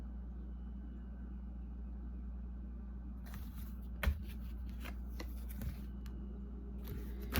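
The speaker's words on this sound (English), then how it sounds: "I'm going to shuffle these one more time" Tarot cards being shuffled by hand, a few soft riffling and slapping bursts over a low, steady room rumble, fairly faint and close.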